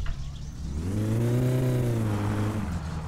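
Car engine in the video game My Summer Car revving up as the car pulls away, a steady rising then falling drone with clear harmonics, close and fairly loud, no talk.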